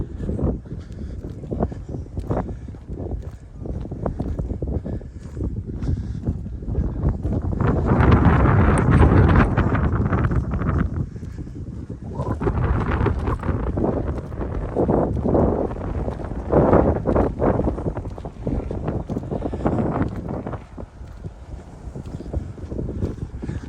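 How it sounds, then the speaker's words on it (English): Heavy coastal wind at the Guernsey reservoir buffets the microphone in continuous low rumbling gusts that swell and ease, loud and close, with no clear voices. "sorry about the wind noise"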